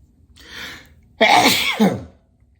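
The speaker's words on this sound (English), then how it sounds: "I'm like sneezing nonstop" A close, loud sneeze bursts out alone after a fainter breathy intake, during kitchen chopping of parsley and garlic; a second sharp burst follows it immediately, with no talking.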